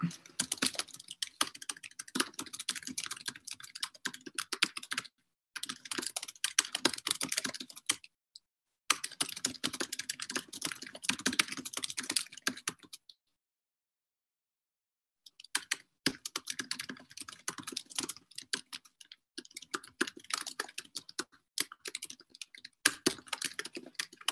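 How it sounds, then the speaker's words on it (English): Rapid typing on a computer keyboard clatters in close bursts of several seconds each, broken by short silent pauses and one longer gap before the keystrokes resume. "If you haven't seen this, I'll type it out."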